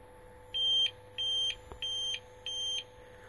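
APC Smart-UPS 750 running on battery after being unplugged, giving four evenly spaced electronic beeps, each about a quarter second long, with a faint click partway through and a low background hum.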